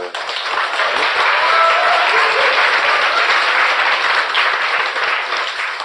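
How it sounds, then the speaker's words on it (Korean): Loud, continuous audience clapping fills the room during a political talk show recording, dense and steady from start to finish. "뭐 이게 박수까지 칠 일인지 모르겠는데"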